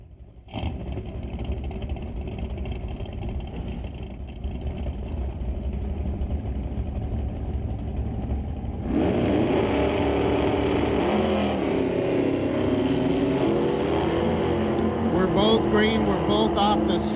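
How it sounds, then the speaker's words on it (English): Two first-generation Chevrolet Camaros launch side by side in an NHRA Canadian Sportsnationals divisional elimination drag race, engines roaring loudly and steadily, then swelling louder and rougher as they charge down the strip, with an announcer talking over them. "Couple first-gen Camaros cutting it up."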